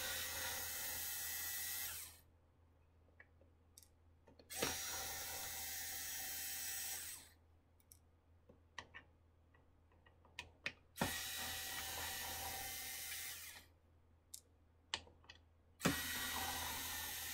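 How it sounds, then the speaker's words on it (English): A cordless power drill backs screws out of a Ryobi 12V battery charger shell, with several bursts of high whining drilling separated by quiet pauses and small clicks and taps of handling. "let's take the other four screws out that need to come out"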